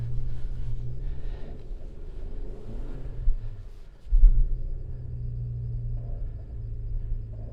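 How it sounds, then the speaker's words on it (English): A Toyota RAV4 TRD Off-Road with lowered tire pressures climbing a deep snowy slope in 7-degree cold: a low steady engine drone and rumble inside the cabin, with a brief thump and surge partway through. "I'm going to go ahead and just try driving up that and just see how well the vehicle does"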